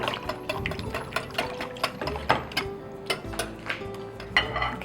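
Bread pudding mixture with nutmeg and cinnamon whisked in a bowl, quick repeated clinks and taps of the whisk against the sides in an uneven close rhythm, with no voices.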